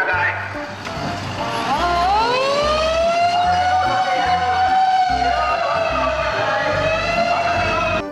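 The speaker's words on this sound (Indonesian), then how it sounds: "Widih, widih, mobil pemadam kebakaran." A loud, close wailing siren from a toy fire truck rises and falls in a toy-like electronic tone, with a steady pulsing beat underneath.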